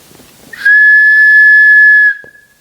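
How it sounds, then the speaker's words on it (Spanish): A single steady, piercing whistle from a whistling water vessel as it fills and empties, ringing out clearly for about a second and a half, then stopping, with faint murmuring before it and quiet after. "cuando se llena de agua y se vacía, ¿ya?, silba."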